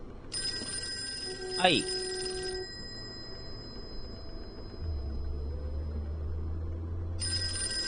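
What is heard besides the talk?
telephone ringing in Call of Cthulhu video game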